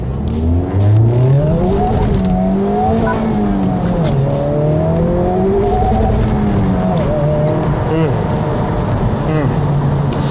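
A 2023 Honda Civic Type R or Nissan 400Z engine revs and rises in pitch through repeated acceleration on a circuit, loud and close, with tyres squealing and engine tone sweeping up and down.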